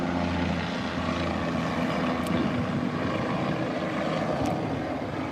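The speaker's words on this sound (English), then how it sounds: "Sorry about the helicopter, guys." A helicopter flies overhead, giving a loud, steady engine and rotor roar that fills the whole stretch without any talk.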